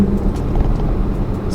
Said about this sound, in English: The 4-cylinder sounds eerily similar to the one they had before.